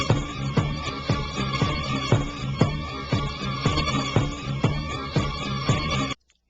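Sped-up sample of the chorus of a song loops in a dense, steady rhythm of regular punchy hits under sustained layered tones, loud throughout before cutting off abruptly at the end.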